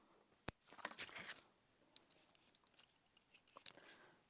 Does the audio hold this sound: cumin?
no